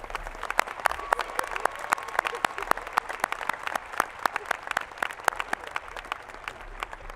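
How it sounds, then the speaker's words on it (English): Steady applause from a large audience at a high school commencement ceremony, many hands clapping in a dense, even patter at moderate distance with no voices over it. "Let's give them a round of applause."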